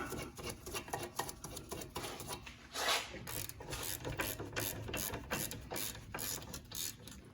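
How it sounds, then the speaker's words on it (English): A ratchet clicks rapidly and steadily as an 18mm socket tightens a brake bolt on a Dodge Durango, close-up metallic pawl clicking in quick bursts with no speech. "We'll get our 18 and tighten it up."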